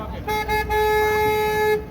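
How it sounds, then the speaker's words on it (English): A river tour boat on the San Antonio Riverwalk sounds a steady two-tone horn blast of about one and a half seconds, loud and close, over a low motor hum. "I have to honk a horn because this is two-way traffic."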